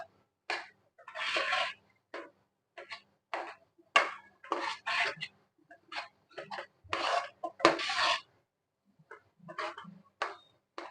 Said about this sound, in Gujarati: ધાણા નાખીને એકવાર આપણે હલાવી લઈએ